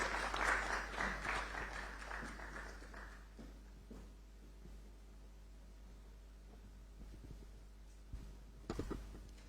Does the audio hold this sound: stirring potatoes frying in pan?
no